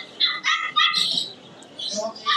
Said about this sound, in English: Oh, they're selling little puppies.